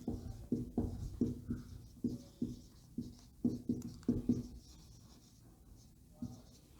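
A pen scratches across paper while working out a maths solution on differentiability, in a run of quick, close strokes with short pauses and a quieter stretch near the end.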